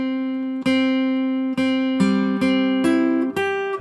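Single guitar notes played high up the neck ring out one after another, each plucked clearly and held with a slight vibrato waver.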